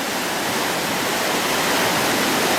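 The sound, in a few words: river water rushing down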